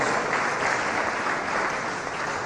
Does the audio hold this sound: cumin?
no